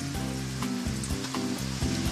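Italian food frying in hot oil gives a steady, close sizzle that runs the whole way through, partly under background music.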